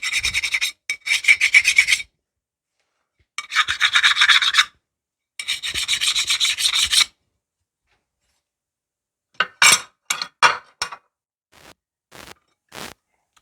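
A hand file rasps burrs off the edges of drilled holes in a knife tang, in three long bursts of quick back-and-forth strokes, then a handful of short single scrapes, close and alone.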